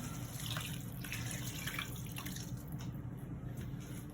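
Stock made from two stock cubes poured into a hot cooking pan, a soft steady liquid splash and pour that runs continuously for a few seconds, fairly quiet and close, with no talking.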